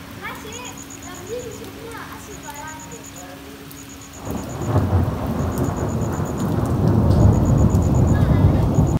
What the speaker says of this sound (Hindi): साथ में दोबारा से बारिश स्टार्ट हो गई।